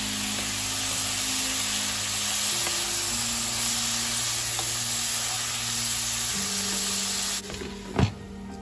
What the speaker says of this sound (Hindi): अब मैं इसमें टमाटर डाल देती हूँ।